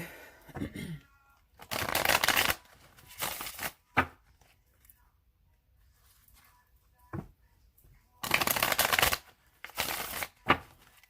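Several quick bursts of riffling cards, each a brisk flutter, separated by short pauses in an otherwise quiet room.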